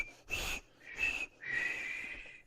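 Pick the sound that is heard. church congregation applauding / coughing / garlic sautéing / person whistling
person whistling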